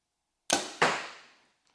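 Two arrows loosed in quick succession from a Title 40 recurve bow in an outdoor archery round, each a sharp, close thwack with a short trailing decay, followed by a faint tick.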